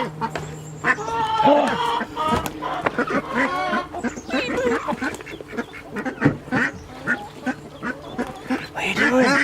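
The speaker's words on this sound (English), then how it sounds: "Let's see if we can find these ducklings." Ducklings and mother ducks on a homestead quack repeatedly in close, busy bursts, with a person briefly exclaiming amid the calls.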